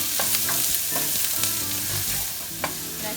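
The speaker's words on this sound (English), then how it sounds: "Let's add the onion." Chopped onion sizzles and fries in hot olive oil in a pan, a steady crackling hiss with occasional stirring scrapes and clinks, close and continuous throughout.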